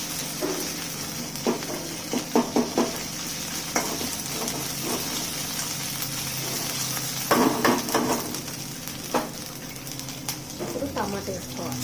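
Ginger garlic paste sizzles and fries in a pan. A steady hiss runs underneath, broken by clusters of sharp crackles and spatters and a few scrapes of stirring, and no one speaks.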